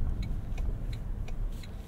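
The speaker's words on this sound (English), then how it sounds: "You can hear that whirring of the electric motor and the speaker under the car." Electric motor of a 2023 Toyota Sequoia Platinum 4WD hybrid driving at about 20 mph with the engine off, a steady low road hum with faint periodic high ticks, continuous and close.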